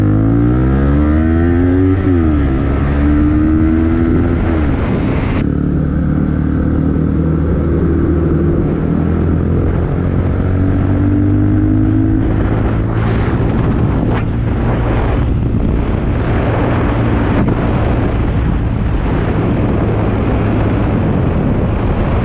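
A Honda CBR motorcycle engine while riding, a loud continuous drone with rising and falling revs through gear changes under heavy wind noise.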